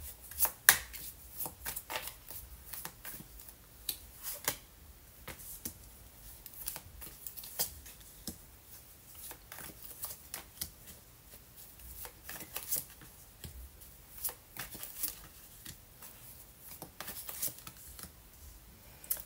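Tarot cards shuffled repeatedly during a card reading, with crisp riffling and slapping bursts that come and go throughout, close and fairly quiet, with no talking.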